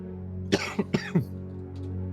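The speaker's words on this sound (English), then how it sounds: "Oh god, I have a cough right now." A player at a tabletop roleplaying game session coughs in a short burst of about four rough coughs close to the microphone, over a quiet low hum.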